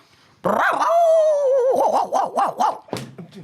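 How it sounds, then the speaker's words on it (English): A dog lets out a long, drawn whine that breaks into a rapid series of yelping barks, close and loud. "Please keep the dogs down"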